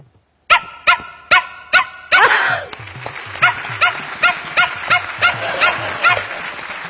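A child imitates a Pomeranian dog with a quick run of four sharp yaps, then a rougher burst and a steady series of about a dozen shorter yapping barks, loud and close, with no other talk.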